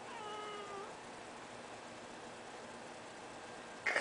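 A pet cat gives one drawn-out meow early on, close but faint over steady background hiss, followed by quiet room noise and a brief rustle at the end.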